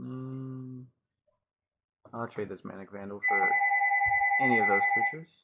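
A landline telephone rings in a room, a pair of loud two-tone electronic trills overlapping a man's speech near the end.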